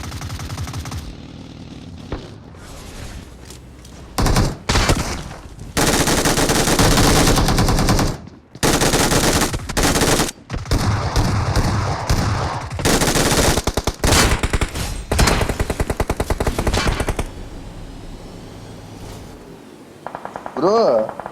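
Rapid bursts of video game machine-gun fire crackle loudly through most of the stretch, with heavy sustained volleys broken by short pauses, while players talk over the shooting.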